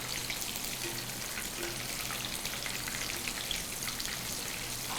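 Marinated chicken deep frying in hot oil for dragon chicken, a steady, even crackling sizzle that stays constant throughout without speech.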